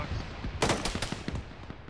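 Gunfire in a ShackTac squad video game battle, a loud burst up close followed by a run of quicker, fainter shots over steady background noise.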